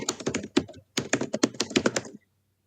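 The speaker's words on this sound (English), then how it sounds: "We can hear you typing." Quick clattering keystrokes on a computer keyboard, picked up over a live online call, come in two rapid bursts with a brief pause between them and then stop. The typing is close, clear and fairly loud, with no one talking over it.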